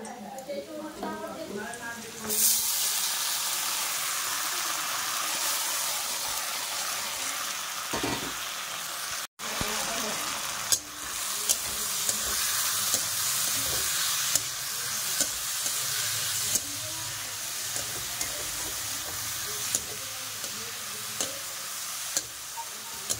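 Cooked lentils (dal) are poured into a pan of fried onions and start a steady hiss and sizzle, with scattered ticks and scrapes of stirring, while someone talks over the cooking.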